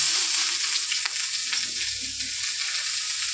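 Panch phoron spices fry in hot oil with bay leaf, making a dense, steady sizzle close by, with faint occasional crackles and stirring, and no speech.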